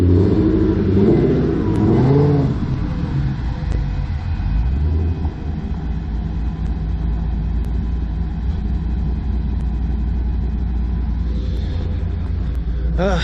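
A Mustang engine revs up loudly at close range, then settles into a steady low rumbling idle that continues throughout.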